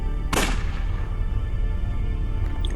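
One sharp gunshot rings out in the video game Unavowed, a sudden loud crack with a short tail that fades over a low steady background hum.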